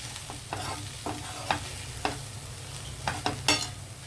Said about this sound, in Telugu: ఇదంతా బాగా దీనికి పట్టేలాగా కలుపుదామండి